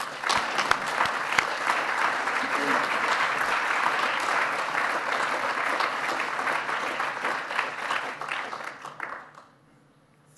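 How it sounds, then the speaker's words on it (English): A conference audience in a hall gives steady, dense applause to welcome a speaker to the stage, holding strong for about nine seconds before dying away into near silence. "let's give a hearty round of applause for Julian."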